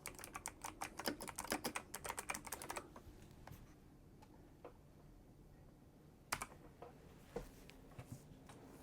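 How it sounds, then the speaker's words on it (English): Fast computer keyboard typing, a rapid dense burst of clicky keystrokes followed by slower scattered single taps and pauses, close and fairly quiet. "Don't mind my wonderful typing skills."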